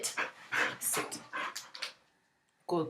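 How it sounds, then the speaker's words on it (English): A female dog pants and whimpers close by as she jumps up on a person indoors, with short bursts of excited breathing and whines in an uneven rhythm and a brief pause before one last burst. "My dog is literally trying to bite me and she's jumping on me."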